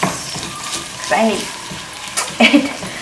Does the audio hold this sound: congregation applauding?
no